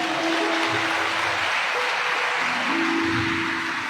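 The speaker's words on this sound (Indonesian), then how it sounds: "Tepuk tangan dong buat Dia." A church congregation at an Easter service claps together, a dense, sustained patter of many hands filling the room at an even level, with faint tonal music underneath.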